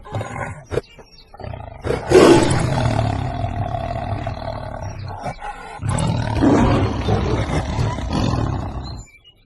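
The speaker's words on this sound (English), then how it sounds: "Tiger." A tiger lets out loud, rasping roars, a few sharp short grunts leading into two long rumbling snarls separated by a pause, close and powerful with nothing else heard.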